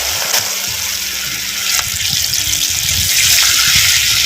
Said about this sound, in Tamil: எண்ணெயும் நல்லா காஞ்சிருச்சு இப்போ எண்ணெயில் வந்து சேர்த்துக்குவோம்